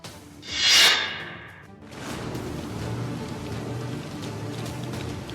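Heavy rain and flooding in the city of Abha, Saudi Arabia: a steady broadband hiss of downpour and running water after a brief whooshing swell, moderately loud and with no talk.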